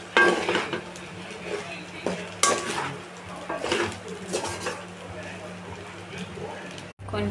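Chicken fried rice being mixed with chilli powder and salt in a pan: repeated metal spatula scrapes and clanks against the pan over a faint sizzle, with a voice talking throughout.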